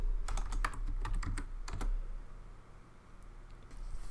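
Quiet, close clicks of typing on a computer keyboard while logging in to a Raspberry Pi, quick bursts of keystrokes at first, then a pause, over a low steady electrical hum.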